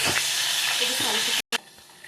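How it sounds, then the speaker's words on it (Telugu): Ginger garlic paste fries in hot oil with dried red chilies, giving a loud, dense sizzling hiss with a few faint stirring clicks. It cuts out briefly and then returns softer. "అల్లం వెల్లుల్లి పేస్ట్ వేగిపోయింది ఫ్రెండ్స్ చక్కగా"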